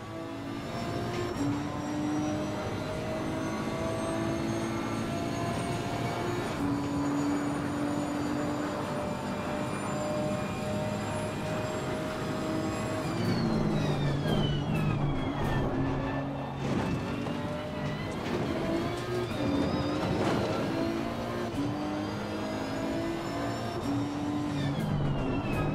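A race car lapping Monza in Assetto Corsa Competizione, its engine droning steadily at high revs with rising and falling pitch through gear changes, loud and continuous with no talk.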